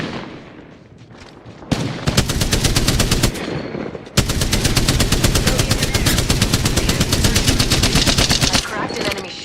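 Sustained automatic gunfire in a video game battle, loud and close, in two long rapid bursts separated by a brief pause, with a faint voice underneath.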